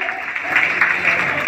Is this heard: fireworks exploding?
no